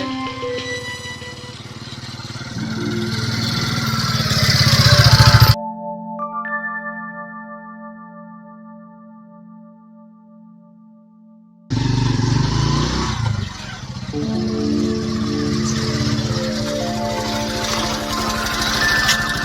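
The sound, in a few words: Mahindra Centuro motorcycle running on LPG kit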